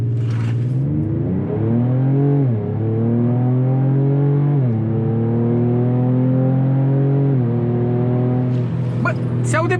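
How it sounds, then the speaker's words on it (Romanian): A 2023 Ford Ranger Raptor in Baja mode accelerates hard, engine and exhaust climbing in pitch through several gear shifts with brief dips between them, heard loud and close from inside the cabin. "Hai să vedem cum accelerează mașina asta cu 50-50 cuplu."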